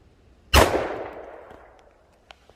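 A single loud close gunshot from a Smith & Wesson M&P .40 pistol firing an Underwood 155 grain XTP round, with a sharp crack that decays over about a second, followed by quiet.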